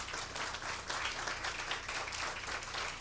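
A livestreamed year-end review event audience claps in full, sustained applause, a thick, even roar of many hands held steady for the whole three seconds.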